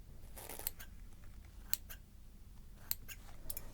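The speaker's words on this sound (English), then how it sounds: "I'm just going to give them a little trim before we get started." Sharp scissor snips trimming feathers in a close, quiet ASMR setting: a few crisp, separate cuts spaced irregularly over a soft background, with no talking.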